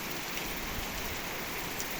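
Rain pours steadily onto potted flowering plants outdoors, a dense, even hiss of drops that stays constant and fairly close with no voices.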